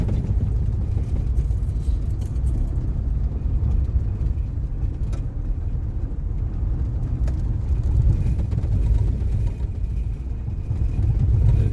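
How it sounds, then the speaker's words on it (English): Car driving along a washboard gravel road near a national monument, a steady low rumble of tires and engine with constant vibration, heard close from inside the vehicle. "A little bit of washboard, but you're going to get that on gravel roads now and again."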